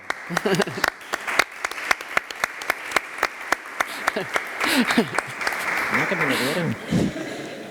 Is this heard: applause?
yes